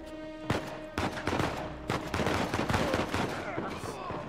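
Rapid video game gunfire in Uncharted 4, dense bursts of automatic shots cracking one after another at close range for several seconds, loud and continuous with no voices.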